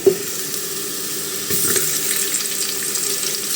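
Onion added to garlic sautéing in a pan, a steady hissing sizzle that swells louder after a brief clatter partway through and keeps crackling to the end.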